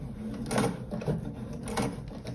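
A sewing machine stitches a quarter-inch seam on a quilted potholder in a steady whirring run of close mechanical stitching, with no voices.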